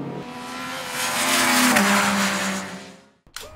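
A Yamaha XSR900 GP sports motorcycle on the Donington Park circuit, its engine note rising loud and steady as it passes close, then fading and cutting off, followed by a short burst of another engine.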